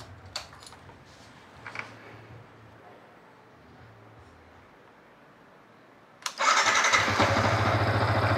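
A Yamaha MT15 motorcycle engine with 40,000 mileage is started and catches at once, settling into a loud, steady idle after a few seconds of quiet clicks and faint handling noises.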